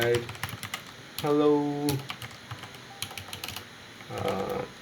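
Computer keyboard typing at a desk, scattered light key clicks in short bursts mixed with a few spoken words.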